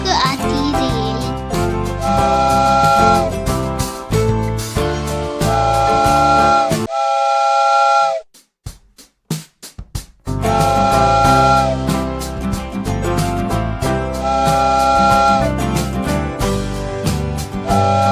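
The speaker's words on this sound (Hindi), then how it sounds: "काला इंजन दबे लाल सीटी खूब बजाती रेल" A steam train whistle from a Hindi children's rhyme about a black engine blows in several clear, steady toots over loud, bouncy music, with a brief near-silent break midway.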